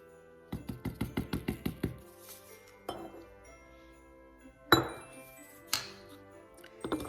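Baking powder and a pinch of salt being mixed in a bowl, a quick run of about ten rhythmic clinking taps of utensil against glass or ceramic, followed by a few scattered, louder clinks, close and alone.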